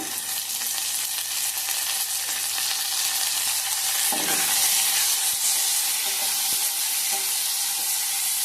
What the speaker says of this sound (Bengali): দিয়ে দিচ্ছি কেটে রাখা টমেটো